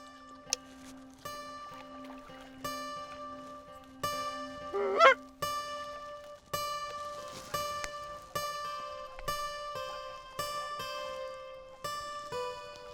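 A flock of Canada geese flies in, honking repeatedly in loud, clear calls that come in an uneven rhythm throughout.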